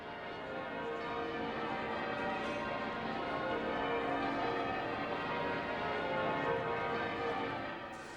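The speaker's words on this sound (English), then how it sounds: "we've recreated that image and the bells which rang out across the capital" Church bells ring continuously at a distance across a capital city, a dense, steady wash of overlapping tolls at low volume.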